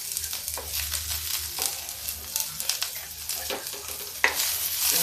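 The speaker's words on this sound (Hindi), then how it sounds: "अब इधर हम प्याज फ्राई कर लेते हैं" Onion and green chillies fry in a pan for a quick stuffed eggplant dish, with a close, steady sizzle broken by repeated spatula scrapes and one sharp knock near the end.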